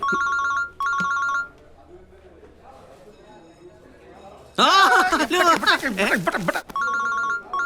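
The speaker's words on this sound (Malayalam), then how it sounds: "മനോട്ടാ, ഫോൺ സ്വിച്ച് ഓഫ് ചെയ്തേക്കും. എടുക്കടാ, എടുക്ക്." A phone ringtone plays in repeated electronic bursts, pauses while a voice speaks loudly, then rings again near the end.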